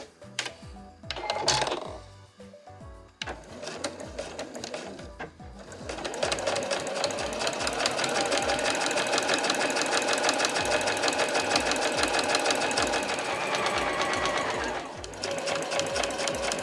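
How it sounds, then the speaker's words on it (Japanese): A sewing machine runs an edge stitch with a blind-hem edge-stitch presser foot along a fabric edge for a tissue case pouch. A few short bursts come first, then one long steady whir close by. "こちらの際ステッチに使える立ち目かがり押さえを使ってこの際を縫います"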